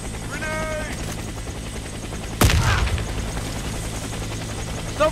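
Gunfire in the Warface video game: a sharp, loud burst of shots cutting through steady background rumble, with a brief crackle trailing off afterward.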